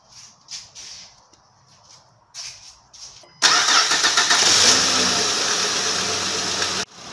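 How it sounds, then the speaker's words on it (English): Honda Odyssey van after an oil and filter change: a few faint clicks and a short crank, then the engine catches and settles into a loud steady idle that cuts off near the end. "and then start your car."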